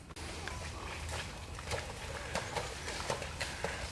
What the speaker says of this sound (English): we've just got a couple of horses going over the bridge now